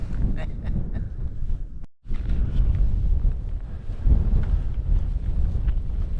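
Wind buffeting the microphone on Wester Tor during a wild camp on the moor, loud continuous rumbling gusts with a brief break and a fresh surge later.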